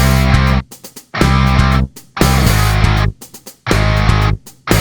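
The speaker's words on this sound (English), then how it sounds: "the drums are playing a nice little rhythm in 5/4" A loud full band of rhythm guitar, bass and drums plays punchy phrases in 5/4, with brief gaps between bursts.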